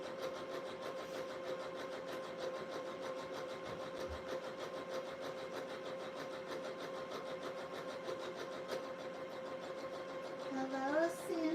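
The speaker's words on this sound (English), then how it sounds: "It's been a long time since I sewed on this machine." A sewing machine runs continuously while stitching a fleece robe, a quiet, even mechanical hum with a faint rhythmic whir, and a brief voice near the end.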